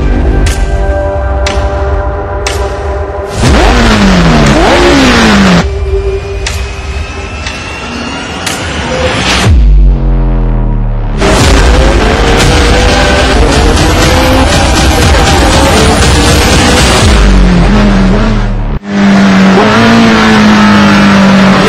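A McLaren 765LT sports car accelerates hard in repeated runs, its engine rising loudly through the gears with sharp shift breaks, close and dominant, with tire and wind noise between pulls.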